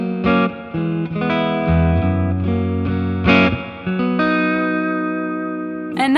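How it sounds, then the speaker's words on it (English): An electric guitar plays through a 1963-style spring reverb, sounding loud chords and notes that ring out with a lush, splashy tail and a sharp attack near the end. "I got a nice 63 spring reverb going on too."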